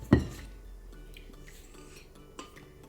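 Cake batter is scraped from a bowl into a baking tin, opening with a sharp utensil knock, then soft wet scraping and a lighter clink near the end, close up with no talking.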